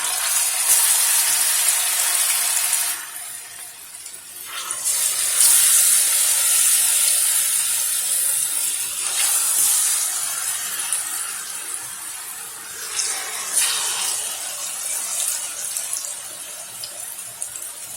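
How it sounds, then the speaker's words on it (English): Sweet plantains frying in a pan, a steady close sizzle and hiss that rises and dips in waves, with no talk. "We're gonna fry the plantains"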